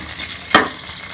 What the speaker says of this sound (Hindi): एक मिनट के लिए इसे फ्राई कर लेंगे।